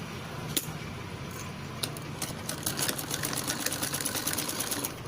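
A sewing machine stitching a princess-cut blouse runs in a quiet, close, rapid mechanical patter, with a few sharp clicks at first before settling into a steadier run.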